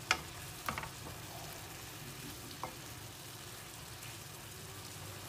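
Soft, steady sizzling of kimchi fried rice frying in a pan, with a few light clicks of a utensil stirring near the start.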